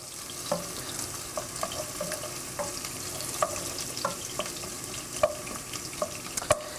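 Vegetables with onion browning in a pan for a bolognese sauce, a soft continuous sizzle broken by regular clicks and taps of a spoon stirring against the pan, close and quiet, with no one talking.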